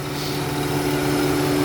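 A 2004 Lincoln Town Car engine idles smoothly with no misfire, producing a steady, even low hum close by, alone and without talk.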